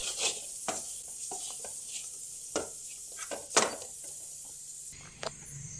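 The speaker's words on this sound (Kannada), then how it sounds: "ತೆಂಗಿನ ತುರಿ ಉಂಟಲ್ಲ ಕೆಂಪಾಗುವವರೆಗೆ ಇದನ್ನು ಫ್ರೈ ಮಾಡಿಕೊಳ್ಬೇಕು ಚೆನ್ನಾಗಿ" Grated coconut fries on a low flame in a pan as a spoon stirs it, with soft scrapes and light taps over a steady, faint sizzle.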